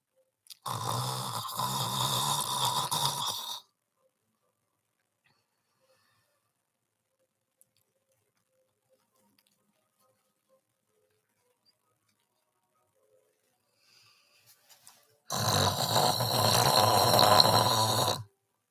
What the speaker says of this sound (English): I snored for you.